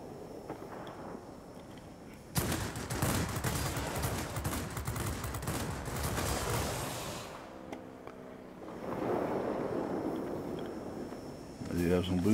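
Aircraft machine-gun fire in the World of Warplanes video game, with a Westland P.1054 in combat against an IL-20: a dense, continuous rattle of rapid bursts over droning engine noise, easing off and returning.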